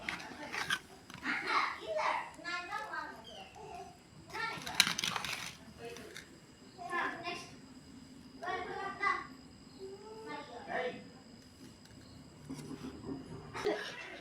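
Children eat and taste home-cooked chicken biryani, with soft bites and chewing sounds mixed among their chatter and brief voices, several short bursts spread across the scene.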